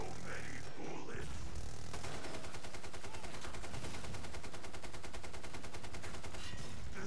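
Rapid automatic gunfire from a commando character in a zombie-slaying video game, sustained machine-gun bursts hammering steadily for several seconds after a short pause.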